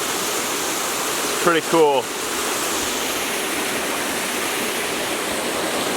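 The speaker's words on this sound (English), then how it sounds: "check out the waterfall that's behind me" A woodland waterfall roars as a constant, loud broadband rush filling the whole clip, with someone speaking briefly over it partway through.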